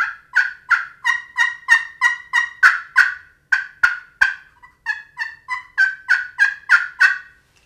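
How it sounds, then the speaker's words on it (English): An acrylic slate turkey call produces a rapid series of sharp yelps, about twenty in a row with a brief pause midway, clear and close with nothing else heard. "I really like a slate call."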